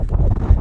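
Strong wind buffets the microphone at the top of Sawtooth Canyon in the California desert, a close, steady low rumble with no pauses over the short moment.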